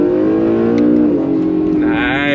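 Acura NSX hybrid supercar accelerating hard on throttle, a loud steady engine drone with rising harmonic tones that climb near the end, heard close from inside the car.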